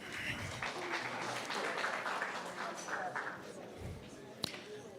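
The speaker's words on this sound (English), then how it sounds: "Let's clap hands again for them." Guests at a student representative council gala dinner clap, a moderate, continuous patter of many hands with voices mixed in, easing off slightly toward the end.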